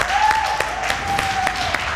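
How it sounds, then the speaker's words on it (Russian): Studio audience clapping at a music casting show, a short burst of scattered claps with a sustained singing or synth tone over it, moderately loud. "Эти аплодисменты вам."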